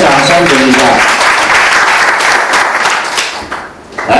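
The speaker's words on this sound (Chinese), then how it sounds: "我们给明华热烈掌声鼓励一下" An audience at a speaking-training class bursts into loud, sustained applause, many hands clapping densely together. The applause fades slightly toward the end, and a voice can be heard alongside it.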